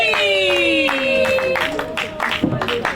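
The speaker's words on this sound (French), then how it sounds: "nos applaudissements s'il vous plaît" An audience breaks into clapping partway through, the scattered then quicker claps coming in under a sustained held tone and voices at a French-language gathering.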